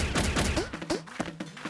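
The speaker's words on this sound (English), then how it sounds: "Use your launcher to send them some real bouncy balls." A cartoon launcher in a children's animated show fires bouncy balls, giving a quick volley of loud popping shots followed by springy boings as the balls bounce away.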